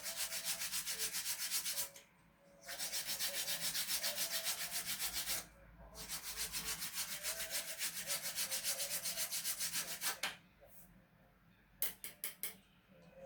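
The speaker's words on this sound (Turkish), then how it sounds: "bu keskin kenarları yani pahlarını zımparayla yumuşatacağız" Steady back-and-forth rasp of sandpaper softening sharp wooden edges, long continuous strokes broken by a few short pauses, close and fairly loud, no talking.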